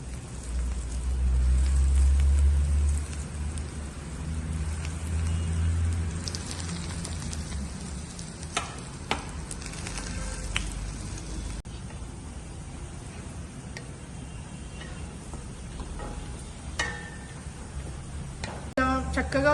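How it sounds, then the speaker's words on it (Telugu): Bread slices frying in AMC cookware, a steady crackling sizzle like light rain running throughout, with occasional clicks and utensil taps near the end. "చక్కగా గోల్డెన్ బ్రౌన్ లాగా అన్ని ఫ్రై చేసుకోవాలండి"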